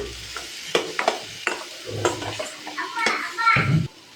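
Spiced food frying in a pan after salt and turmeric go in, stirred with scraping clinks and sizzle, a brief bubbling near the end, with faint background voices.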